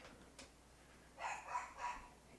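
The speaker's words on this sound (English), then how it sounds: "dogs might be barking a little bit" Dogs bark faintly in the distance, a few short muffled barks clustered near the end, over a quiet background.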